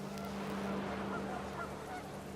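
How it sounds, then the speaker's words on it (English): Panicked geese honking in the video game What Remains of Edith Finch, a flurry of overlapping nasal calls over a steady low hum, moderately loud and continuous, with no voices. "Panicked geese appeared and quickly went."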